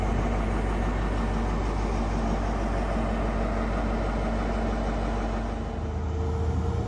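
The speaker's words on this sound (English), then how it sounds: "it's the HST, the high-speed train, the Intercity 125" An HST Intercity 125 diesel high-speed train on a UK intercity route, a constant deep rumbling drone with steady running noise, loud and unbroken throughout.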